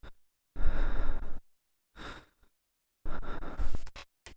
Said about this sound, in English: It's also sounding very annoying when breathing.